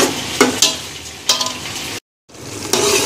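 A tomato puree masala for chicken 65 fries in a pan with a bright, close sizzle. It is punctuated by a few sharp stirring scrapes, with one brief silent break.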